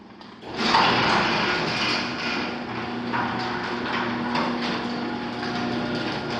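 A house's overhead garage door runs loudly, a steady rumbling mechanical grind with faint rattles that starts abruptly and holds at an even, fairly loud level throughout.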